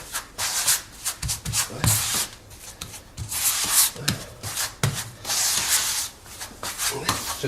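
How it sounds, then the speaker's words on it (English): Rubber squeegee pushed back and forth over wet grout on outdoor paving, working it into the joints: steady rhythmic scraping and rubbing strokes, close and fairly loud, with no voices. "What we want to do is get our squeegee, and then what we do is just pull it and start working it right into the joint."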